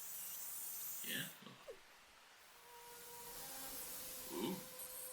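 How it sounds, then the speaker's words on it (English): Crickets chirp in the anime Code Geass as a soft, steady chorus with a thin high hiss and faint tones, running under a few short bursts of voices. "I'm hearing a lot of crickets"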